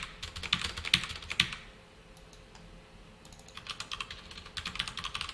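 Bursts of computer keyboard typing during code writing, a quick flurry of clicking keystrokes, then a short pause before another run of lighter taps, close and fairly quiet with no talk.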